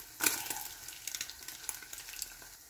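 Sardine omelette sizzling and crackling in a hot pan, with a sharp burst of spatter near the start and then steady close frying pops and small stirring clicks, no voices.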